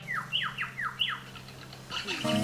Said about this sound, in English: There's at least 6 or 8 glossy black cockatoos through this section.